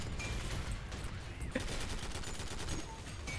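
An automatic turret in the top-down shooter Synthetik fires rapid, continuous gunfire in dense volleys that persist steadily through the short stretch.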